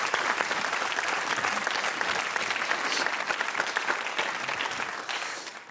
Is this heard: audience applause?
yes